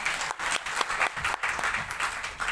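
An audience claps to welcome a speaker at a women's honour ceremony at Kurukshetra University, a short burst of brisk, fairly close applause with uneven rhythm lasting a couple of seconds.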